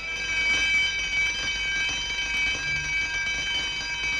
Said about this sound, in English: That alarm meant that someone had been captured.